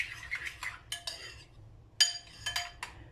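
A spoon clinks and scrapes against a bowl while stirring kefir with chia and flax seeds, giving sparse bright taps and short scrapes with quiet gaps between them.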